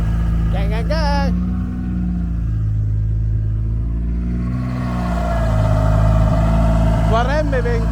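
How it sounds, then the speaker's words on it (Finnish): A drift car's engine runs and revs steadily while its drive belt squeals, a thin whine riding over the low engine drone, with people talking over it close by. "Tuo remmi vinkuu vasta."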